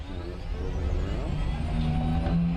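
A car crawls slowly over rocky, dusty terrain with a steady low engine drone and some rumble, while people talk over it.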